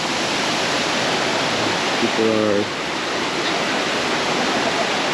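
Sumampan Waterfall in Ubud, Bali roars as a constant dense wash of falling water close by, and a voice speaks briefly over it.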